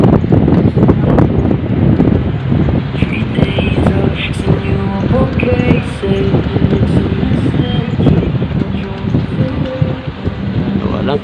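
Strong gusty wind roars and buffets the microphone while biking along Manila Bay near Baywalk, with a low rumble, while voices carry faintly underneath.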